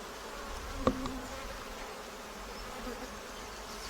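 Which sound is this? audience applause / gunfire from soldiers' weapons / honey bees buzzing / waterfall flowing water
honey bees buzzing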